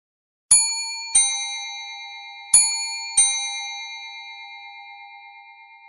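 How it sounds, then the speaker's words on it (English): Half-hour chime from an ESP32 speaking clock played over a small 3-watt speaker: four bright bell-like dings in two pairs, each ringing and decaying, loud and close with no other sound. "Second quarter or half-hour chime."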